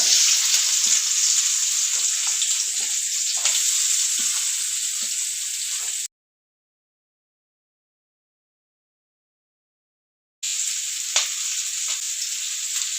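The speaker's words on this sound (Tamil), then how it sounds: "இப்போ நம்ம பச்சடி வந்து பார்க்கலாம் ஃப்ரெண்ட்ஸ் ஓகேங்களா வெங்காயம் போட்டுக்கலாம்" Onions for pachadi fry in a pan with a loud, continuous hissing sizzle, broken by a few seconds of total silence before the sizzling resumes.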